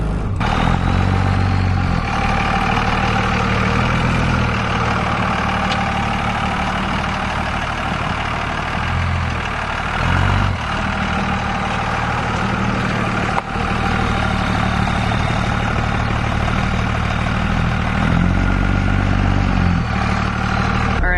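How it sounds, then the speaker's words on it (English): A truck engine idles steadily and loudly nearby on a snowy farm, a constant low rumble with slight clatter throughout. "So I'm in the truck, Trey's on the tractor."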